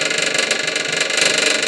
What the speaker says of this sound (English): Little clicky clack pump's just a click clacking away.